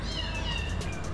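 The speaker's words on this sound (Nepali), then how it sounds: "अब बिरालोको आवाज सुनेको मलाई चाहिँ एकदम गाह्रै हुन्छ" An orphaned kitten gives a short, fairly loud meow, a single drawn-out cry heard on its own.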